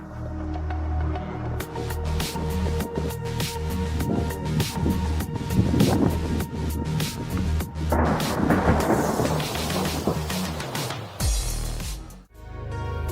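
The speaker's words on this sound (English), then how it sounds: "lightning strikes" Thunder from lightning strikes rolls and cracks through a downpour, loud rumbles building and crashing over steady rain, with a sharp close crack near the end.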